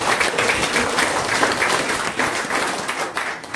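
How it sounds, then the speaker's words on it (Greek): A crowd claps in sustained, dense applause at the consecration of an Orthodox chapel of Saint Modestos and Saint Panteleimon, steady and close, then gradually tapering. "Ένα χειροκρότημα για τον κύριο"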